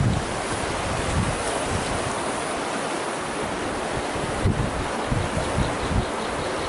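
Floodwater after a storm surges steadily through a village, a dense, continuous close rushing roar with gusty wind buffeting the microphone and no voices.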